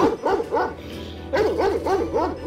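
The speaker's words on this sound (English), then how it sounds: "Man, that is one loud dog." A dog in the horror game Bloody Rosie barks loudly in repeated bursts, two clusters of sharp yips and bow-wows separated by a brief lull, close and dominant over a low steady game hum.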